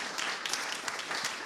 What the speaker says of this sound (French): Je pense qu'on peut applaudir les intervenants parce que c'était une très belle table ronde.